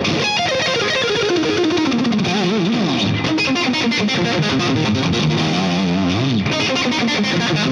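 An electric guitar played through a Rocktron Valve Charger overdrive pedal gives a smooth, mildly distorted tone, with continuous melodic lines and sustained notes at a steady level and no talking.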